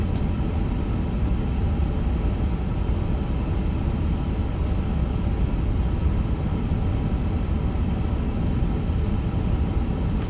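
An iniBuilds Starlux A350 jet takes off from Taiwan Taoyuan in a flight simulator game, with a loud, steady engine roar and rumble that holds unbroken throughout and no voices.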